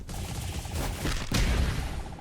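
Luffy's Gum Gatling attack in a Roblox JJS game fires a rapid flurry of punching impacts, a dense rattling barrage that swells into a heavier burst near the end.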